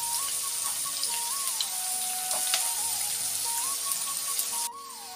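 Sliced onion and green chillies frying in a pan: a close, continuous sizzle with crackling pops, steady throughout, with a faint tonal beep in the background and no talk.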